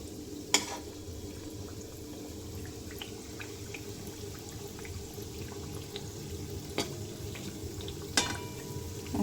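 Thekua dough deep-fries in oil with a soft, steady bubbling sizzle, faint and low, broken by a few sharp clinks of a utensil against the pan.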